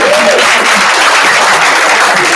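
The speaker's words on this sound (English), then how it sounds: "Can you give a round of applause?" An audience at a sales meeting gives a round of applause. Dense, loud clapping fills the whole stretch without a break.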